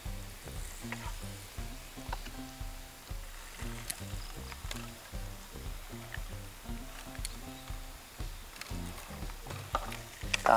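Meatballs fry in butter in a pan over a gas camping stove outdoors, a steady close sizzle with a repeating bubbling pulse, no talking.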